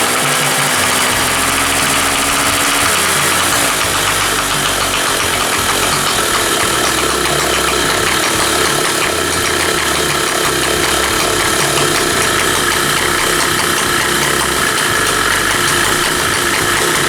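A two-stroke generator engine runs continuously at a steady, loud buzzing pace with rattling vibration, close up and without any talking.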